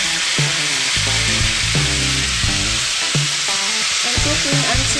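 Fish frying in a pan, a dense continuous sizzle with crackling pops heard up close, alongside tonal clatter from stirring or utensils and no talking.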